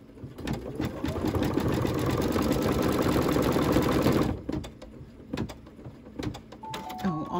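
A sewing machine running steadily for about four seconds, stitching with glow-in-the-dark thread on a Halloween quilt block, then stopping, followed by a few soft handling clicks and rustles.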